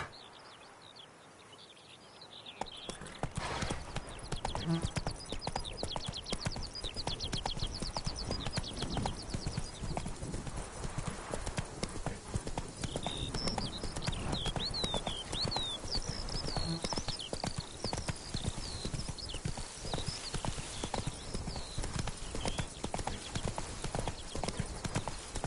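Horse hooves clip-clop in a steady, rapid trotting rhythm in the Witcher 3 Blood and Wine game, continuous and fairly close, with faint birdsong and brief whinny-like calls in the background.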